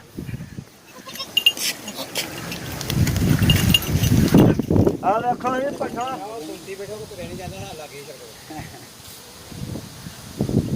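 A male goat bleats several times in wavering cries, close by, amid people talking and moving around on a goat farm.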